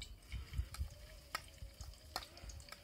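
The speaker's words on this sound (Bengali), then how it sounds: "আদা রসুন এই গরম তেলের ভিতরে কিছুটা দিয়ে দেবো আদা রসুন" Ginger and garlic frying in hot oil in a village kitchen, a faint steady sizzle with soft crackles and a few stirring scrapes, heard up close with no talking.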